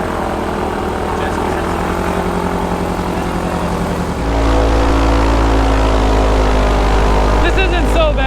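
An airboat's engine and propeller roar steadily and loud at close range while driving across floodwater, the pitch and power rising sharply about halfway through as the throttle opens.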